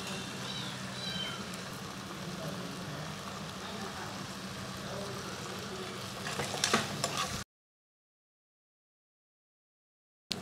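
Potatoes fry with curry leaves in oil for sabudana khichdi, a steady close sizzle with a brief clatter of stirring near the end before it cuts to silence.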